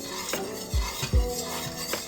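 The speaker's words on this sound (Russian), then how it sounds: "ставим на маленький огонь и постоянно помешиваем, не прекращая" A spoon scrapes and knocks against a pot while flour paste for kimchi is stirred over low heat, giving a few soft, uneven strokes and clinks close up.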